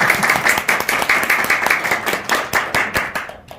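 Audience applause welcoming Kazakhstan university president Bang Chan-young to a guest lecture, a dense steady wash of clapping that continues for several seconds and then thins out near the end.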